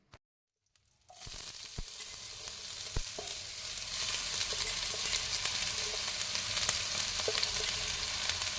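Greens and onion with a slit green chilli fry in a pan, starting with a couple of sharp knocks before a steady sizzle builds and grows louder partway through, with faint stirring scrapes and no voices.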